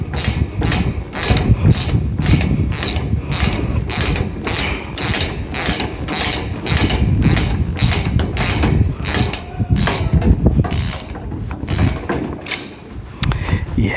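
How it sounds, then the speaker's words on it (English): A ratchet clicks rapidly and repeatedly while tightening a screw on a metal sheep feeder, loud and close, working in steady bursts with brief pauses. "I don't know if that screw that I'm tightening is going to tighten up"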